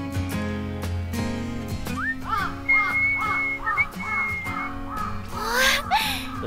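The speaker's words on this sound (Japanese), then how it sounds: "九段さん口笛を吹けるのね" A character in the video game Kudan no Folklore whistles a short rising-and-falling tune, bright and close, over a steady backdrop of game music.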